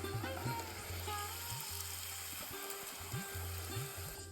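Milk poli, a sweet flatbread, frying in hot oil gives a steady close sizzle and bubbling hiss with a low hum underneath, continuous throughout without any talking.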